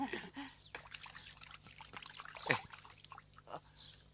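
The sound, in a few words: clean water trickling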